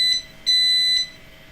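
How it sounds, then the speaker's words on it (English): A reflow oven signals that reflow is done with three clear electronic beeps in an uneven rhythm, the middle one held longest, close and loud over a faint steady hum. "Beep, beep."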